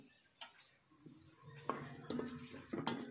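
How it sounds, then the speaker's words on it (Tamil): Chopped tomatoes are sautéed in oil for a drumstick-leaf sambar. A spoon stirs and scrapes the pan in a few soft, close clinks over a faint sizzle. "நறுக்கி வச்ச தக்காளி எடுத்து அதையும் வந்து நல்லா எண்ணெயில் வதக்குறோம்."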